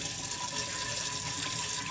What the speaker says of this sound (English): I'll just put a little bit of water and I'll kind of just scrub around